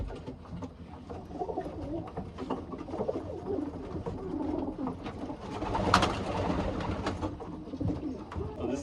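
Racing pigeons coo in a loft, a steady low burbling chorus running throughout with some cage rustling and brief clatter, no talk in the foreground.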